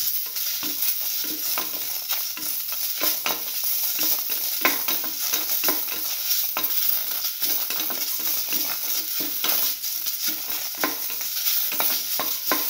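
Tomato pieces and red chillies sauté in a hot pan with a constant sizzle, punctuated by repeated scraping and clinking strokes of a spatula, close and steady throughout, no voices.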